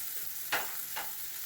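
Garlic and onion sizzle in melted butter in a pan for pork caldereta, with a soft continuous frying hiss and two brief scraping strokes as they are stirred; no voices.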